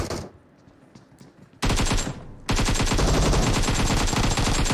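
Sustained automatic AKM fire in PUBG Mobile, fired while crouching, comes in two loud close bursts of rapid, evenly spaced shots, the second long and continuous, after a quieter stretch of faint game ambience.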